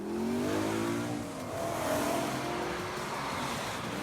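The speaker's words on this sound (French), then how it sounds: "La tranquillité idyllique des collines des Alpes prend une petite pause lorsque les voitures de sport sont de passage." A Mercedes-AMG GT R sports car drives through the Alpine hills, its engine note rising and shifting as it accelerates nearby, a steady loud motor drone with gear changes and no talk.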